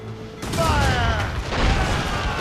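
Ship cannons firing during a naval battle in Assassin's Creed Rogue, heavy booming blasts layered over a continuous roar of battle noise, with shouted voices and whistling tones mixed in.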